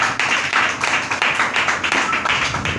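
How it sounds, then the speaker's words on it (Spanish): A church congregation claps in a steady, rhythmic beat, many hands striking together in regular pulses, fairly close and continuous with no talk over it. "Brinde ese fuerte aplauso al que vive."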